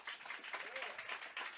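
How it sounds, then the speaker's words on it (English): Audience applause at an evening listening session partnering with the Studio Museum of Harlem, a steady wash of many hands clapping for under two seconds, moderately loud and continuous without speech over it. "Give them a round of applause."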